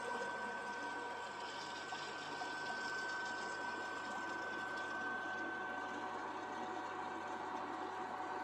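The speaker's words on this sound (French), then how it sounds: "On démarre ensuite la machine, puis la pompe envoie le mélange au travers du tube" The coolant pump of an xTool P2 CO2 desktop laser pushes a liquid mixture through the tube with a steady, even whirring drone and a faint watery hiss, continuous and close with no talk.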